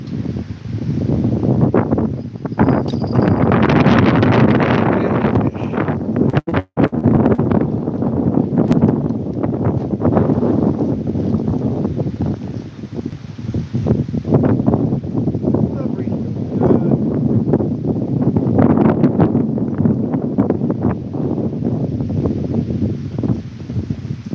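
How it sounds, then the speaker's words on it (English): Strong wind buffets the microphone on a fishing trip, a loud continuous roar that swells and eases in gusts throughout, with one sharp click partway through. "Hopefully the wind does not drown you guys completely out"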